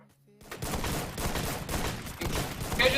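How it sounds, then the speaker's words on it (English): Rapid gunfire from the Free Fire battle royale game during a Red Bull MEO esports tournament match, a dense run of shots and bursts that starts after a short quiet lead-in and carries steadily to the end. "He is already shooting shots, reloads"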